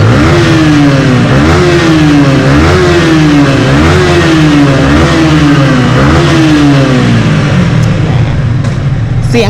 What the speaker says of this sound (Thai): แต่ต้องเสียงเครื่องยนต์เนี่ยมันเล้าใจนะ